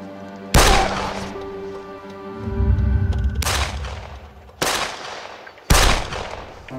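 Four loud, close gunshots in a tense crime drama, each a sharp broadband crack with a ringing tail, spaced irregularly, with a low rumbling thud between the first and second shots.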